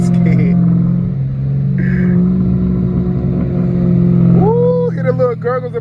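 Catless Dodge Challenger RT exhaust in traffic, a steady close low rumble that holds, then rises sharply in pitch as the car accelerates near the end, with a short rasping burble.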